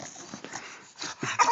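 A dog whines and whimpers softly in short, uneven bursts across a brief moment, close by and fairly faint, with a slightly louder yelp near the end.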